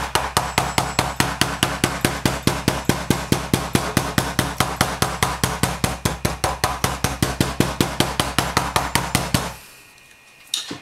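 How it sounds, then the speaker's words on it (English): A rubber mallet taps leather sheath stitching in a fast, steady run of close, even knocks, dozens in a row, stopping abruptly near the end before one last faint tap. "just bounce it with the hammer, not with a hard hammer,"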